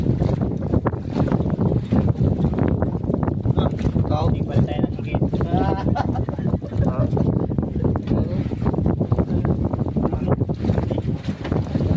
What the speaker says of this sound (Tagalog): At dahil malakas yung hangin.